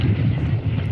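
Gusty wind buffets the microphone at a wet, windy parkrun on a grassy course, a dense low rumble filling the short moment with no voices.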